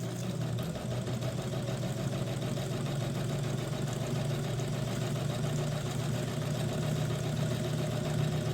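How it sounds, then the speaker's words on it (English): A Kenmore 117.589 sewing machine runs steadily while winding a bobbin, its rubber tire driven against the hand wheel, giving a constant, even motor hum with a low tonal drone and no breaks, heard alone without talk. "Flip the bobbin winder up until the rubber tire comes in contact with the hand wheel, and you're ready to wind a bobbin."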